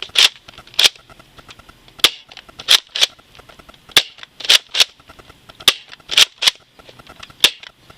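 Nerf Rebelle Rapid Glow blaster firing repeatedly, giving a series of sharp, close, cap-gun-like snaps. Single shots and quick pairs come at irregular intervals over a quiet background.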